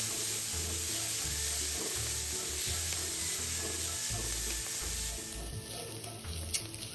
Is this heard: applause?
no